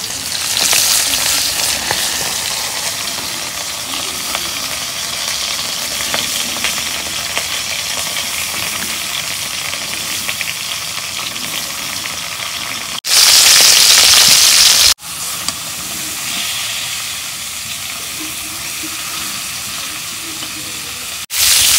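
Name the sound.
fish frying in mustard oil in a wok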